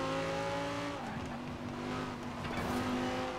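An Audi R8 in Forza Horizon 4 slides on snow, its engine droning steadily with a drop in pitch partway through as the car loses grip, loud and continuous with no talking.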